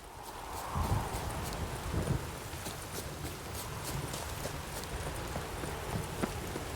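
Horse hooves in the video game The Witcher 3 clop in a steady walking rhythm, fairly faint, over a soft rustling background.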